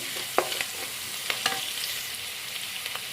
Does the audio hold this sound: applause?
no